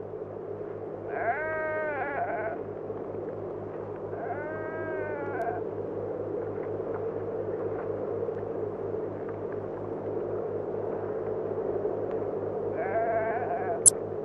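A few sheep bleat at a middle distance in three separate wavering calls, each about a second long, over a steady low mechanical hum in a desert Bedouin setting.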